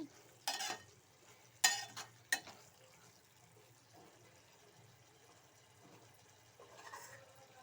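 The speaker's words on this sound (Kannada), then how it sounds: "ಇನ್ನೊಂದು ಐದು ನಿಮಿಷ ಬಿಟ್ಟು ಈ ರೀತಿ ತಿರುಗಿಸ್ಕೊಡಿ ಇಲ್ಲಾಂದರೆ ತಲ ಹಿಡಿದ್ಬಿಡ್ತದೆ" A spoon scrapes and stirs sweet corn gravy in a pan, three sharp scrapes early on and then a soft, low bubbling simmer close by, with no voices.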